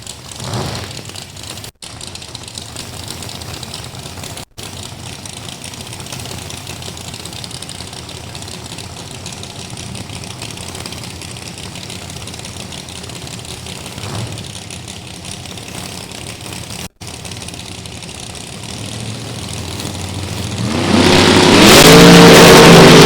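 A 668 cubic inch Ford drag racing car at Beech Bend, heard as a steady loud engine drone through most of the run, swelling into a much louder roaring blast near the end.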